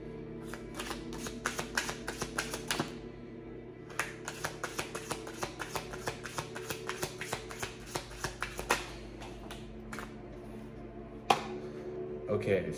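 Tarot cards shuffled by hand in a steady run of crisp riffling flicks and snaps, close and fairly quiet, pausing briefly near three seconds and ending with a sharper slap, over a low constant hum.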